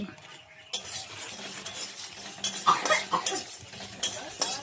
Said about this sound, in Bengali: এবার মৌরি দিয়ে ধনে দিয়ে আর শুকনো লঙ্কা দিয়ে ভাজা হচ্ছে